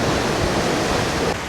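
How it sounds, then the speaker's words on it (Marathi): Sea water surging and rushing up through a large crack in the coastal rocks at Hedvi point in Konkan, a loud, continuous broadband roar of churning water with a slight drop near the end. "त्या फटीतलं पाणी असं येतंय सनाट आणि सनाट पाणी येतंय लाट"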